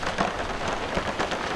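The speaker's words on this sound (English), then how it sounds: "The rain on this skylight was so loud" Rain drums steadily on a bus skylight, a dense, continuous patter close overhead with no voices.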